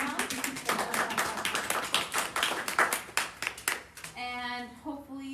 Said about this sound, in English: So a round of applause or thumbs up virtually for